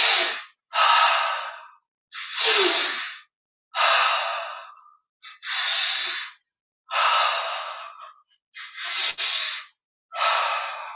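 Slow, deep breaths in and out during an ankle exercise, about eight long airy breaths in an even rhythm with short pauses between, close and clear with no talking.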